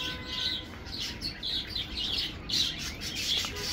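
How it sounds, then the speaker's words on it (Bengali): Exotic foreign birds in a cage at Narayanganj City Park trill and tweet in rapid, closely spaced calls, fairly near and steady, with faint outdoor background noise beneath. "এই যে বিদেশি পাখি এখানে সংরক্ষণ করা হয়েছে"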